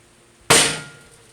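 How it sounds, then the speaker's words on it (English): A single sharp metallic clank as a hammer strikes a punch into a charcoal grill lid, close and loud, ringing briefly before fading out. "Before drilling, we need to start our hole with a starter punch."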